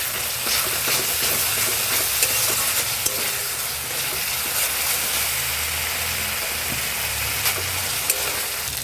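Fish curry spice paste stirred with salt and turmeric in hot oil in a pan, giving a steady, loud, close sizzle with continuous frying hiss and scraping throughout.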